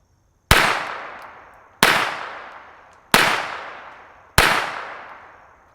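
A Walther P22 pistol fitted with a one-baffle suppressor fires four shots at a steady, slow pace. Each sharp crack is followed by a ringing decay that fades before the next shot.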